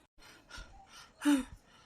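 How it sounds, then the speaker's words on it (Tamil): A few quick, heavy breaths up close, ending in a louder gasping inhale, like someone out of breath. "அப்பா ஓடி வந்தது என்ன மூச்சு வாங்குது"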